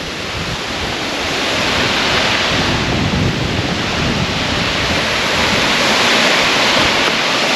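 Waterfall in the Nallamala forest near a temple at Giddalur, a steady broadband roar of rushing water, loud and continuous, close to the microphone with no voices.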